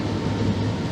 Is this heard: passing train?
yes